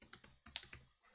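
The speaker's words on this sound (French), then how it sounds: "il faut taper git commit-m et écrire un message" Quick, light keystrokes on a computer keyboard as a git commit command is entered, about a dozen close clicks in an uneven rhythm over roughly a second, quiet and without talking.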